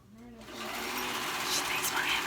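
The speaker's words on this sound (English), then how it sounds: "she's just gonna give it a little serge, just at that raw edge." Serger sews along the raw edge of headband fabric, starting up and running a fast, steady close whir that builds in loudness, with a voice speaking underneath.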